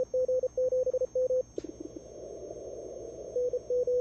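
Morse code call keyed out during the CQ World Wide CW DX ham radio contest: crisp rhythmic tone bursts over radio hiss, a short pause filled with noise, then more keyed tones returning faintly at the end.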